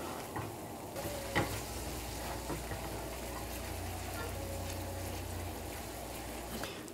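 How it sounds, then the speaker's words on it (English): Cold butter whisked into hot beurre blanc sauce in a pan, a steady close hiss and sizzle with soft scraping whisk strokes throughout, no talk. "you just start whisking"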